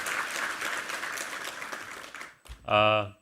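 Loud applause from a large church congregation at a Thanksgiving Sunday service fills the space, then fades out and a voice begins speaking.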